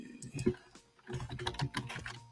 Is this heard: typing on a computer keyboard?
yes